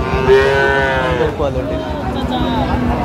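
Cattle at a rural livestock market for Friesian and crossbred bull calves, loud close moos with long drawn-out tones, set against crowd noise and background chatter.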